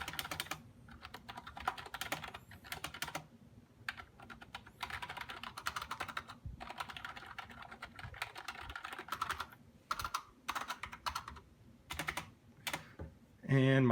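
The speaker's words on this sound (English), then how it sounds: "I'll type a couple random things on it" Fast, uneven typing on a Hiraliy X11 membrane keyboard clatters in bursts with short pauses, close by, ending in a louder clunk.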